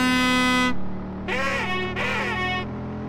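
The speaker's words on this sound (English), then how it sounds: "That is the weirdest horn I've ever heard." A breakdancing bus in a video game lets out an odd, strained horn: one long sustained blast, then two shorter wavering honks in a row, loud and close over a steady engine hum.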